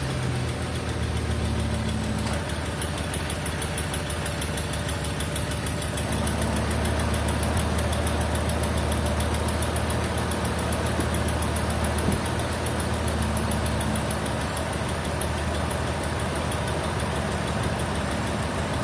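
A 2011 Ford Expedition sits in park with its engine idling, a steady close mid-pitched hum and vibration running throughout with no talking.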